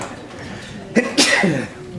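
A single sharp sneeze bursts out partway through a Lions Club meeting, preceded by a quick intake of breath, against a quiet room background.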